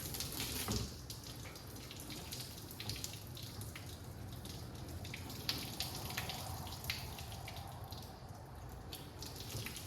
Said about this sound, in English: I'm gonna put this hot water on it